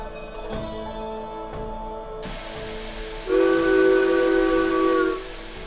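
A steam locomotive's whistle blows one steady, sustained tone at the end of the track. It rises out of a hissing background, carries strongly for about two seconds, then cuts off, with no voices.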